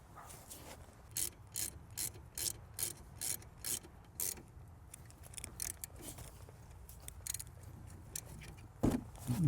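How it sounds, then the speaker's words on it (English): A ratchet clicks in a steady series of short bursts while a 17mm bolt is tightened on the rear brake caliper of a 2002 Lexus ES300, close and fairly quiet. "And secure this 17mm bolt at the bottom."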